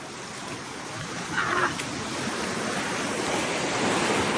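Heavy high-tide surf roars steadily into a sea cave on a Philippine coast, a broad wash of churning water that swells near the middle and stays loud, with wind buffeting the microphone.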